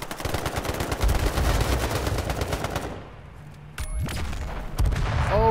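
Rapid automatic gunfire in the H1Z1 Battle Royale game, a dense rattling stream of shots that drops away, followed by a few sharp isolated shots and another burst.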